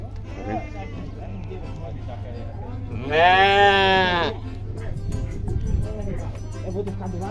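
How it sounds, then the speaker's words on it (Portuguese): Sheep bleating during livestock unloading in Tabira, Pernambuco, one loud drawn-out bleat standing out over a steady low hum and background chatter of people. "Hoje tem mais ovelhas do que caprinos aí."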